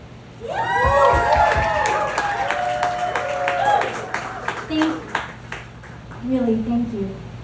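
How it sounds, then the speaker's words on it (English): An audience at a speech applauds a nonprofit, with scattered claps under loud whoops and cheering voices that rise and fall, then fade into a few lingering shouts. "I just want to give them another round of applause for that alone."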